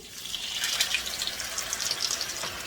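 Potatoes fry in small batches in hot oil for a Lebanese dish, giving a steady close bubbling sizzle with crackling pops throughout.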